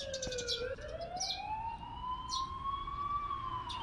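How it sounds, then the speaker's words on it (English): In the horror video game The Coma: Cutting Glass, an ambulance siren wails, sweeping slowly up and down in pitch, fairly faint and steady, like an emergency vehicle passing at a distance. "what's up with the ambulance?"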